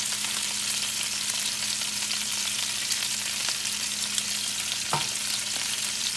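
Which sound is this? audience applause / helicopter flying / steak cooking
steak cooking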